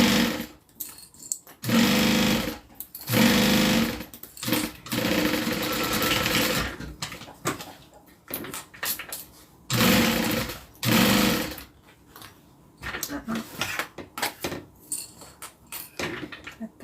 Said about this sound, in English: we're going to stitch all the way down the interior and the exterior.